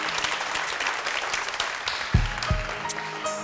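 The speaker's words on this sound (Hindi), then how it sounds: "ऑडियंस एक बार अपनी सीट पे बैठ के जरा इन बच्चों के लिए बहुत सारी तालियां बजा दें" Audience applause for children at a live televised Ramadan debate show, a steady dense wash of clapping with a few sharper knocks and thumps near the end.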